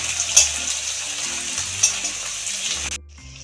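Chopped onions frying in oil, a soft, steady hiss and sizzle with faint pops, close by, cutting off near the end.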